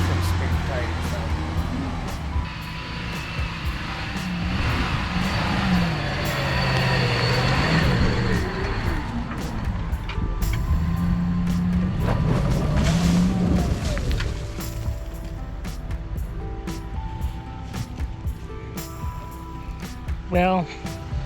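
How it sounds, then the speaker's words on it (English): A Jeep Gladiator EcoDiesel spins its tires on a muddy trail hill climb, the engine rising and falling in loud revving surges while people talk over it. "That didn't stop one of us from spinning tires though."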